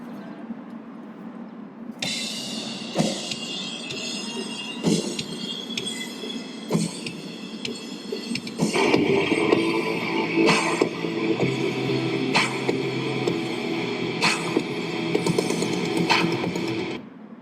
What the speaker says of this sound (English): Matt got on his drum kit and he wrote a beat to kind of match along with it